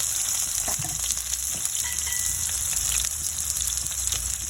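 Garlic and onion frying in a pan, a constant hissing sizzle with small crackles and light stirring knocks, close and moderately loud, with no voices.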